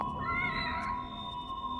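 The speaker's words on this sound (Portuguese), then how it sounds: "Vamos salvar ali no gato. Olá, gatinho." A cat meows in the survival horror game The Evil Within, a short, fairly faint mewing cry over a low hum of game ambience.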